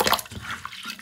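Hominy corn being rinsed by hand in water for Jamaican porridge, with a brief wet sloshing and splashing of grains, close and moderately loud, with no talking.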